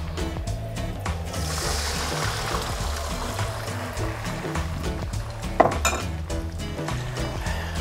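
Half a kilogram of goose liver for foie gras goes into a frying pan and sizzles steadily, with clinks of a utensil against the pan and one sharp knock near the end, close and fairly loud, no talking.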